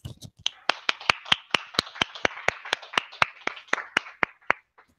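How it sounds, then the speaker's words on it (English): Clapping at a steady rhythm, roughly four claps a second over about four seconds, sharp and close, like a small group applauding at a panel discussion. "it's time for a little applause."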